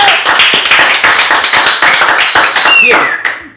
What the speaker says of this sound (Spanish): Le vamos a dar un fuerte aplauso a Carlita.